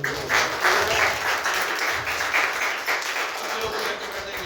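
A church congregation at a Palm Sunday service claps together, a rhythmic burst of hand clapping that stays moderately loud and even before fading slightly.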